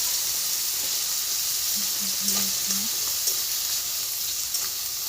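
Mustard seeds and cumin frying in hot oil give a steady, close hiss and sizzle, with a few faint scraping stirs partway through and no talk.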